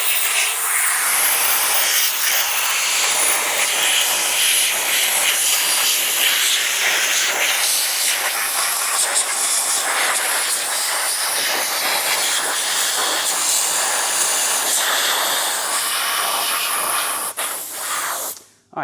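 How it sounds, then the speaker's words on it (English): Compressed air blasting solvent off a vintage floor jack, a loud, steady, close roaring hiss that runs almost unbroken and then cuts off near the end, with no talking. "I'm chasing that off with a bit of compressed air so we could see."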